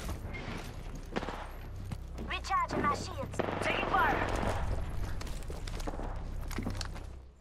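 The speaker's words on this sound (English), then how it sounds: "Listen up, I'm getting shot at." Gunfire in the video game Apex Legends, bursts of rapid automatic shots and single cracks mixed with footsteps and game effects, loud and fairly close, with a player's voice talking over parts of it.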